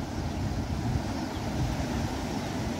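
Surf at Kettungal beach in Kerala, a continuous dense wash of waves breaking close by, with wind buffeting the microphone throughout.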